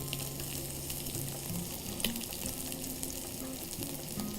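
Meat sears in a hot pan with a dense, steady sizzle and crackle throughout, close and moderately loud, with no talk.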